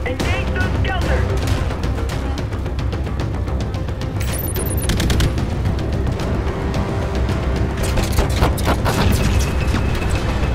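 Space fighter combat in the PSVR game Jackal Assault, with dense continuous rapid gunfire, booms and blasts over a steady roaring engine drone, loud and unbroken throughout.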